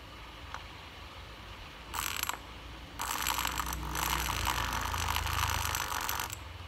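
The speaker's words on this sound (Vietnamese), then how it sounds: "Máy mài, đánh bóng rồi máy mài nữa nha mấy anh." An electric grinder and polisher kicks on in a short burst, pauses briefly, then runs for several seconds with a bright, harsh whirring noise before cutting out.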